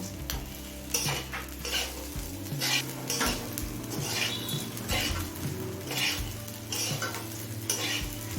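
Rice being fried over a low flame for peas pulao makes a soft sizzle under repeated scraping strokes of a spatula against the pan, with a low steady hum behind; no voices.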